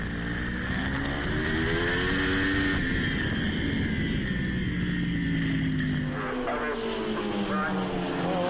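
Racing motorcycles at a Promosports championship round at Croix-en-Ternois circuit accelerate hard out of a corner, their engines rising in pitch as they rev past. The sound is loud and continuous, with a commentator talking over it.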